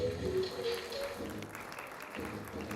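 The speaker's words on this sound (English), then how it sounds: "Can we have the claps going?" Applause at an awards ceremony greets a winner called on stage, a moderate, fairly faint clapping that holds steady through the short moment with some background voices.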